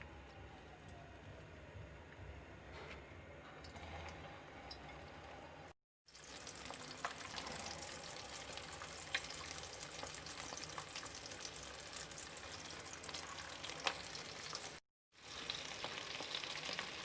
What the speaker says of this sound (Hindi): शैलो फ्राई करेंगे मीडियम आंच पर।